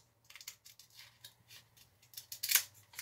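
A slight hump being trimmed off a model biplane part for an advanced 3D build, heard as a string of quiet, close cutting snips in an irregular rhythm, with one sharper, louder snip near the end.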